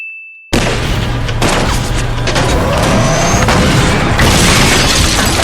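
A tank cannon fires at a building in a post-apocalyptic TV drama scene, bursting in as one sudden loud boom after a brief tone, followed by a sustained rumbling roar of debris and crashing that continues for several seconds.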